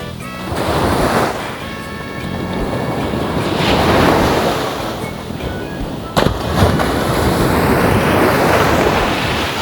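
Ocean surf rolls in steady, loud washes on a beach at Bang Saphan, Thailand, with strong wind buffeting the microphone throughout and a sharp knock or thump partway through.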